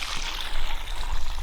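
Water draining out of a farm well runs in a steady broadband rush with low gurgling, slightly louder in the second half, with no talking over it.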